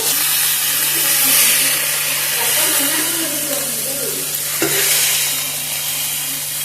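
Coriander and mint leaves frying in oil in a pan for a chutney: a loud, steady sizzle that fills the whole clip, with stirring scrapes and a sharp clack near the end.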